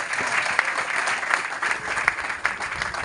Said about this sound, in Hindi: जोरदार तालियां गुरुदेव के लिए